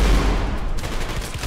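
Rapid gunfire from the first-person shooter Trepang2, a loud continuous burst of overlapping shots with no voices over it.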